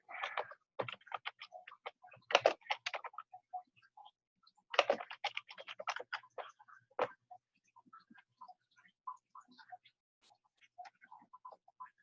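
Quick, irregular typing on a computer keyboard, with clusters of rapid clicking keystrokes broken by short pauses across the whole stretch.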